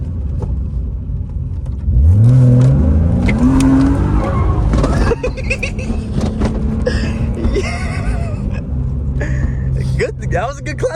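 BMW E36 325i engine rising sharply in a loud rev during a clutch kick, climbing then holding a rough roar as the car goes sideways, with people shouting and talking over it.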